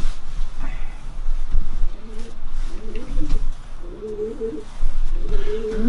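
Racing pigeons in a loft give low, repeated throaty coos that rise and fall over a constant rustling background, the calls fairly close and overlapping with no talking.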